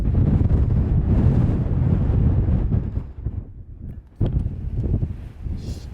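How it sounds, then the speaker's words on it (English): Strong wind buffets the microphone on a hilltop, with heavy low roaring gusts that ease briefly and then return in sharp bursts. "So windy"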